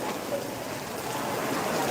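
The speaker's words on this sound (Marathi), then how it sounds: "विजांच्या कडकटाचा सह मोठा पाऊस आता पडलेला आहे अजूनही सुरू आहे" Steady, dense heavy rain in a thunderstorm hisses evenly throughout, a constant wash of falling water with no voices.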